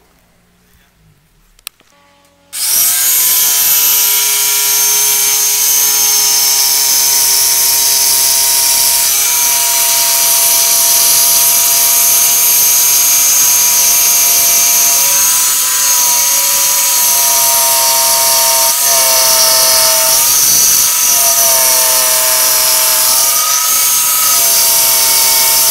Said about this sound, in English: So on the jigsaw I'm using a blade meant for cutting metal to cut out the cabinet